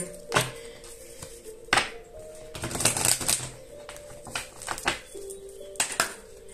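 Tarot cards being shuffled by hand, in several separate bursts of crisp riffling and slapping, close and fairly loud, with a few faint taps between them.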